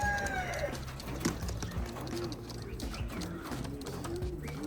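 Racing pigeons coo steadily near an open loft trap door, with soft repeated low calls and a few brief chirps over a constant background hum.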